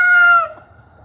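A young rooster gives a short, loud, close crow that cuts off abruptly, leaving faint background noise.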